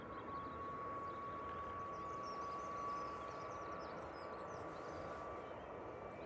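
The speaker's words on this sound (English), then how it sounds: "This is the Ryanair to Gran Canaria." A Ryanair airliner at Manchester Airport gives off a steady, distant broadband jet roar that holds constant, swelling slightly midway, with faint birdsong and a thin tone above it.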